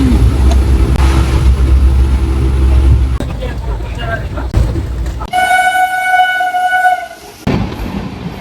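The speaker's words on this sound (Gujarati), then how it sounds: "ટ્રેન પહોંચી ગઈ છે અમદાવાદ." A train pulls into Ahmedabad with a loud, close rumble of wheels and carriages, then a long sustained horn blast sounds near the end before the rolling noise returns.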